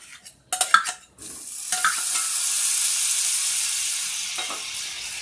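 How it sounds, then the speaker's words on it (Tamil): Twenty-five grams of salted garlic butter hits a hot pan with a few clattering knocks, then breaks into a loud, steady, close sizzle that hisses on unbroken as it melts. "பேனில் garlic butter சேர்த்துக்கலாம்."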